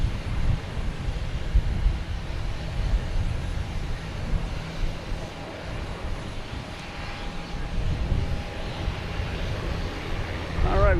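A Delta Boeing 737-800 jet at Boston Logan Airport gives a continuous low engine roar mixed with wind rumble on the microphone, fairly loud and steady, with a faint whine rising toward the end.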